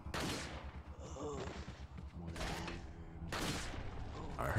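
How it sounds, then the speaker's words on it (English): A few loud gunshot bursts in Resident Evil 4, sharp blasts with short decaying tails separated by quieter stretches, set over a low rumbling game background. "I heard him take a shot. I heard him miss too."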